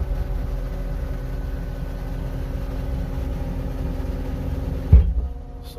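A 2019 Caterpillar 299D2 XHP compact track loader runs with a steady low diesel drone as its arms are raised and lowered, ending with a thump and the engine dropping off.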